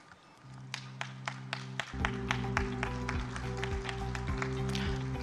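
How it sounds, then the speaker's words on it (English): At a dairy expo inauguration, an audience applauds. Sparse, distinct claps come first, then the clapping fills in to a steady moderate patter over a low hum from the hall, heard from some distance. "Ladies and gentlemen, we give a big clap."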